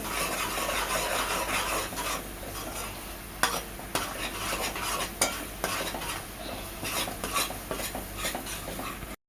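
Onion-garlic masala and spices roasting in a pan for spicy misal, with a soft steady sizzle and repeated scraping and stirring clinks of a spoon against the pan, close and without talk.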